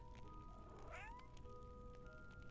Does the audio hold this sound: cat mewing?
yes